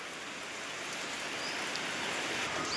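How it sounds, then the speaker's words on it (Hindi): Rain pours down outside a house, a steady, fairly close hiss of drops on surfaces that gently swells over the stretch, with no talking. "ये देखो बारिश आ रहा है अभी।"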